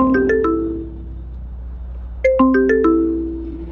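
A phone ringtone plays as a delivery rider calls a customer, two short melodic bursts of chiming notes separated by a pause, clear and close over a low steady background hum.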